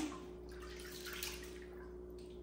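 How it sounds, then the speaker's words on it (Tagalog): Raw pork pieces being washed in running water before browning for a Filipino pork caldereta, with a steady close trickle and drip of tap water over the meat, continuous and fairly quiet. "I'm going to wash it before brown"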